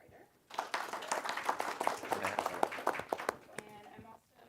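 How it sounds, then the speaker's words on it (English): Audience clapping at a film screening and cast-and-crew discussion evening, a steady burst of applause for about four seconds that starts abruptly and fades out near the end, filling the room at moderate loudness. "We have to be democratic in our applause."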